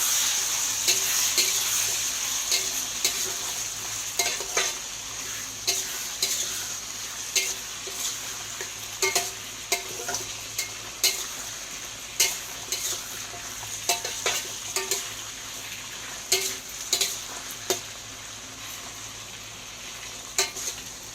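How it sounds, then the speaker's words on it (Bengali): Potatoes and brinjal fry in a pan with a continuous sizzle, while repeated sharp scrapes and clinks of a spatula stirring against the pan cut through at irregular intervals. "এখন একটু আলুটা ভাজা ভাজা হোক, তারপরে বেগুনটা তুলবো"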